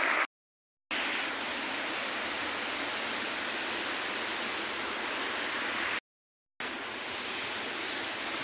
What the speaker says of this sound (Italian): Qui siamo a monte della cascata del Pizzo